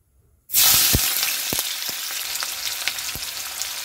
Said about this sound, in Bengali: ওই একই তেলে দিয়ে দেবো পেঁয়াজ কুচি